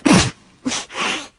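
A single sneeze, close and fairly loud, followed by a short breathy sniff and exhale.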